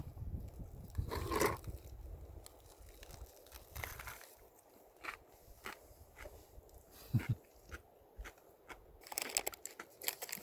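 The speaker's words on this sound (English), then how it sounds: "Hear that crunch?" Crunchy bites into a BLT sandwich with bacon while camping off the grid, faint close crunches and rustles scattered through quiet outdoor ambience.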